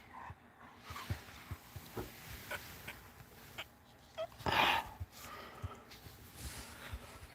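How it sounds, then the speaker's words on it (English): A dog whimpers and snuffles amid scattered thumps and shuffling, with a brief louder yelp or squeal partway through, close by. "I'm going to get that ball from Odie."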